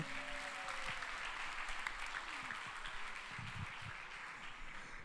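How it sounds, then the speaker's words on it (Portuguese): A church congregation applauds during a sermon, dense continuous clapping from a crowd filling the room, with a few faint voices and a brief tone rising beneath it. "Vamos aplaudir quem respondeu a B"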